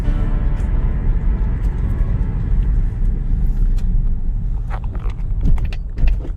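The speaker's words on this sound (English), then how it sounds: "So you want to do acceleration and then stops to set the pad to the rotor properly." Scion iM car running on a road after a front brake pad replacement, a close steady engine and road rumble that swells slightly near the end as it accelerates and slows, with a few light clicks.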